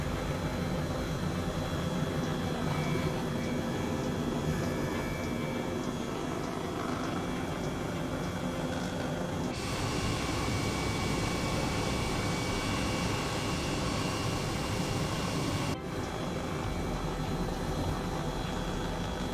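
A Corsair aircraft in Microsoft Flight Simulator drones in flight, a continuous broadband engine and wind roar with steady level and a couple of abrupt shifts in tone.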